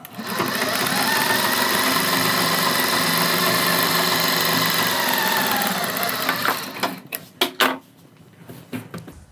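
A sewing machine stitches pintucks on a kurti neckline in a steady, loud whir for about six seconds, then stops, followed by a few clicks and handling knocks.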